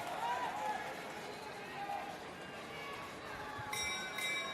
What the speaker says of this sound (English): The bell for Malte